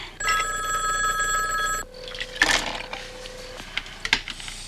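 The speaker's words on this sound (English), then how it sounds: "Pick up the phone." An old telephone bell rings loudly for about two seconds, followed by a steady electronic tone, then clattering handling noises as the phone is picked up.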